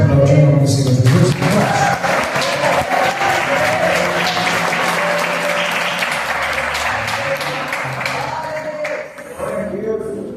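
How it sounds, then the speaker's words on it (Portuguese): Church congregation applauding during a Portuguese-language sermon, loud sustained clapping with cheering voices filling the whole stretch and slowly tapering toward the end. "Você pode aplaudir o nome do Senhor Jesus?"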